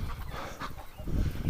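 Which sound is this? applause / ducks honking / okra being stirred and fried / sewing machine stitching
ducks honking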